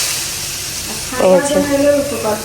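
Oil sizzles and crackles steadily as fritters fry, with a voice talking over the frying in the second half.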